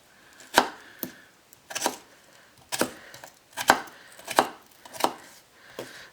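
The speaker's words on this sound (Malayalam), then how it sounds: "ഇതുപോലെ ചെറിയ പീസസ് ആയിട്ട് ഇങ്ങനെ കട്ട് ചെയ്യണം കേട്ടോ" Potatoes are chopped into small pieces with a knife on a board, giving about eight crisp, separate thunks at an irregular, unhurried pace, each one close and clear against near silence.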